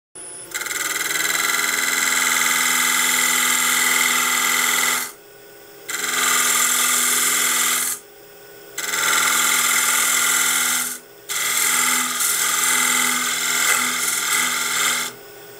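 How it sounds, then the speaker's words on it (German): A wood lathe cuts a groove into a turned wooden base meant to hold a bottle, giving loud rasping scraping in three long bursts separated by brief pauses, with no voices. "Jetzt heißt es nur noch den Einschnitt einstechen, um dann die Flasche drin versenken zu können."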